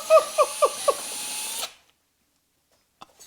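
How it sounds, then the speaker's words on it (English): A power drill boring into a car's body panel: four sharp whining bursts close up over a steady motor hum, then the drill stops and the clip falls nearly silent apart from faint clicks. "Did you legitimately drill a hole in the side of my car?"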